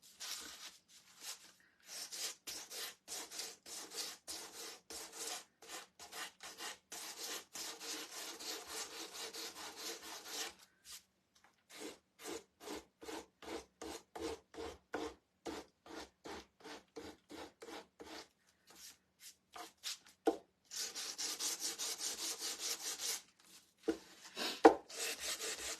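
Sandpaper rubs back and forth over a painted wooden knife block, a steady run of close, rhythmic scraping strokes with a few brief pauses and a denser stretch near the end; nobody talks.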